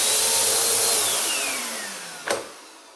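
A cheap Bissell bagged vacuum cleaner's motor whines loudly up close, its pitch sliding steadily downward as it winds down, ending with a sharp click before near silence.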